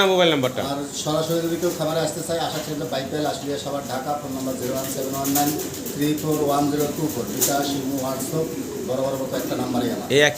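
Pigeons coo softly throughout while someone talks continuously over them.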